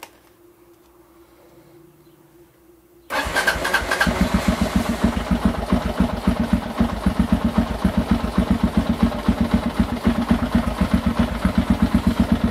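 A cold Kawasaki KLR650 motorcycle fitted with an IMS 10-gallon gas tank starts after about three seconds of near silence, then idles at low RPM with a loud, steady, rapid thumping pulse close by until the end.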